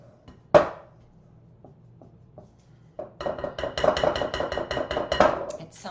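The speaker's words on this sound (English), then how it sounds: "I'm just going around and incorporating the sweet potato into those dry ingredients." Sweet potato being worked into dry ingredients in a bowl, with one sharp clink of a utensil, then a stretch of quiet, then steady scraping and tapping against the bowl up close.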